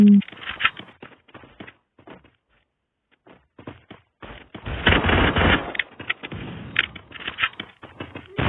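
Free Fire gunfire crackles in sporadic short bursts, a few isolated shots early, then a denser, louder stretch of rapid shooting toward the end.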